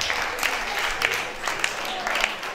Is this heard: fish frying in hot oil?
no